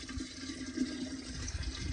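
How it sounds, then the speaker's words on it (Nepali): Water from a tap runs and splashes into household pots and vessels, a steady close pour with a low hum underneath. "पानी आयो पहिला भाँडाकुँडामा यहाँ पानी हाल्नुपर्ने छ मेरो चाहिँ"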